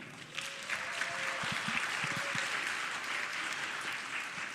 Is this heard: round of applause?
yes